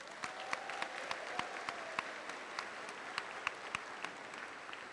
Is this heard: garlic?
no